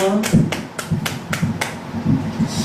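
Rhythmic clapping in a Korean prayer retreat service to welcome a pastor, sharp claps repeating at a brisk, regular beat close by, while people speak and call out over it.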